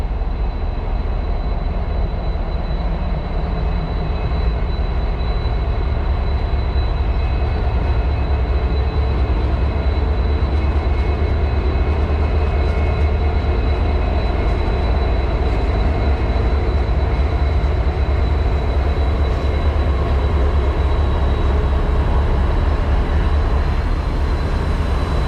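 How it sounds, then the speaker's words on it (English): A train rolls past near the old railroad town of Thurmond, West Virginia, a steady, loud, low rumble that holds unbroken for the whole stretch with no voices over it. "Seeing a train go by always makes me happy."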